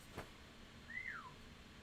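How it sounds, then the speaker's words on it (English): A pet bird gives a single short rising-and-falling whistle, faint and alone over quiet room hiss. "That was my bird that whistled."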